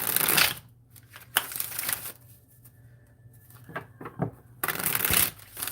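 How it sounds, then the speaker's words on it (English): A brand-new deck of tarot cards is shuffled in several quick riffling bursts, crisp and close, with short quiet pauses between shuffles. "just shuffle these cards just to break them in because it's such a brand new deck"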